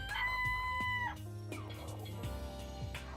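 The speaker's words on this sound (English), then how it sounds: "Little chickens." Chickens in the video game Danganronpa: Trigger Happy Havoc, a sustained crowing note opening loudly, then a run of clucks and squawks over a layered game soundtrack.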